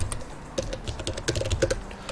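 Computer keyboard typing AutoCAD commands: a quick run of close, crisp key clicks in an uneven rhythm, alone without talk.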